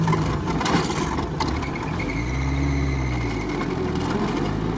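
A GAZ-69 off-road vehicle's engine runs steadily on a boggy tank road, a continuous low rumble with a rising, revving pitch sweep near the middle, fairly close and loud.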